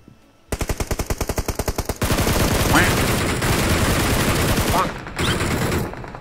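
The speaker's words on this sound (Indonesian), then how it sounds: "Ada yang nembak tapi enggak dari mana" Gunfire in a video game shooter match: a rapid, evenly pulsed burst of automatic fire, then a dense continuous barrage that briefly pauses and resumes, loud and close.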